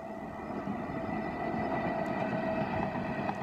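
A freight train of tanker wagons hauled by a WAG-12 locomotive rolls past with a continuous rumbling drone and steady tonal hum, moderately distant, with no voices.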